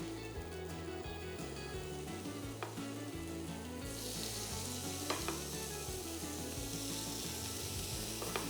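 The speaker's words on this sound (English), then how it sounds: "You can hear the sizzle." Buffalo chicken pieces sizzle on a hot grill pan, a steady crackling fry heard close and alone, with a low hum underneath and a few sharp clicks and scrapes from the pan.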